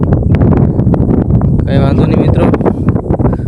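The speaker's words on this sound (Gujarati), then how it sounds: "અને પવન પણ બહુ ચડી ગયો છે" Strong wind gusts steadily across the microphone outdoors, a loud continuous rumble and rustle that runs under someone talking throughout.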